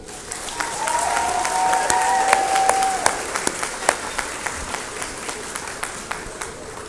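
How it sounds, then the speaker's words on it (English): Graduates, family and friends at an Ohio University Lancaster commencement break into sustained applause, a dense wash of many hands clapping that fills the hall and tapers into scattered claps near the end. "Please offer your family and friends your applause"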